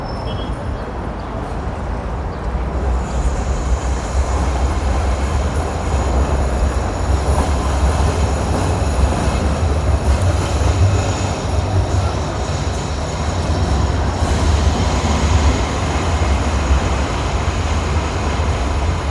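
A tram in Sofia pulls away with a continuous low rumble of wheels on rails, faint high squeals drifting over the steady drone as it moves off.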